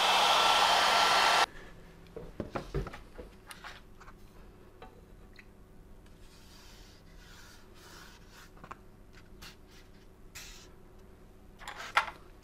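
A hair dryer blows loudly on a watercolor painting of sand for about a second and then cuts off, leaving quiet room tone with faint scratchy brush and handling sounds.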